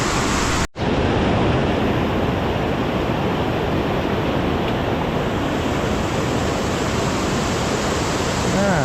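A waterfall and fast-flowing glacial river near a glacier-fed lake pour out a loud, unbroken broadband rush that fills the scene, interrupted only by a very brief dropout near the start.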